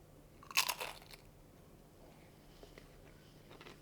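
A single sharp crunch as a Doritos tortilla chip is bitten, loud and close, followed by a few fainter chewing crackles in a quiet room.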